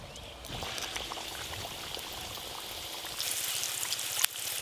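Pea-filled kachori frying in hot oil for a winter breakfast, giving a steady close hiss and sizzle that brightens and grows louder near the end, with no talking.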